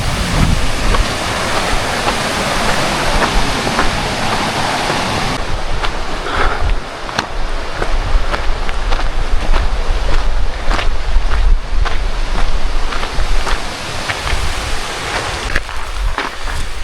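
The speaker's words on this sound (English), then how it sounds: "And here the creek to the right of me." Continuous rushing water from a mountain creek on the Cucamonga Peak trail fills the scene with a dense, loud wash, mixed with wind buffeting the microphone.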